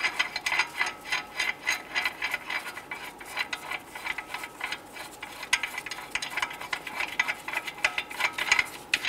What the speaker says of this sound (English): Go ahead and remove the lug nuts.